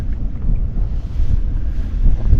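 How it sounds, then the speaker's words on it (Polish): Strong wind buffets the microphone by the Vistula River while fishing, with a heavy, continuous low roar that surges and gusts throughout. "Strasznie wieje."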